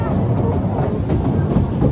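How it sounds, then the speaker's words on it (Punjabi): A passing train rumbles steadily with a rhythmic clatter of wheels on rails, loud and continuous throughout, with faint voices mixed in underneath. "ਉਹ ਟ੍ਰੇਨ ਆ ਜੀ ਉੱਧਰ"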